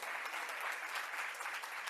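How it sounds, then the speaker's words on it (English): Audience applause at a talk, steady dense clapping from a crowd, even in level throughout and fairly faint overall. "we can give a huge round of applause to Cielo for everything they do in that department"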